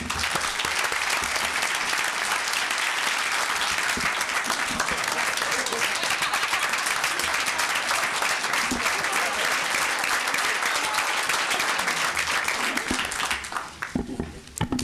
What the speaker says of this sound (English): please join me in congratulating one more time with a nice round of applause